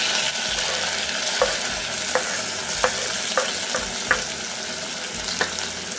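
Tomato sizzles loudly in a frying pan of spicy fish fillet sauce under a steady crackle, with light scrapes and taps from stirring every second or so, close up.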